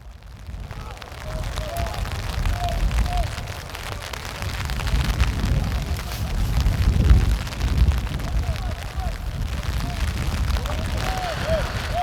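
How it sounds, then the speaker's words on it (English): Wind-driven rain falls steadily at an outdoor night youth football game, a continuous hiss with gusty swells and rumbling, while people talk and shout faintly in the background. "Rain coming down, blowing."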